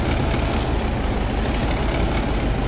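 A turbo diesel tractor engine in Farm Simulator 2015 drones at a steady idle, a loud, continuous low rumble with a faint high whine running over it and no voices.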